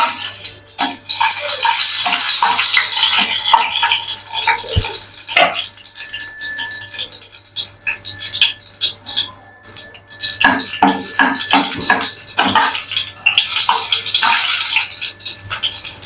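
Dried red chillies hiss and sizzle loudly in hot mustard oil in a pan, making a steady, close, broadband frying noise with brief pops and a little stirring. No one speaks.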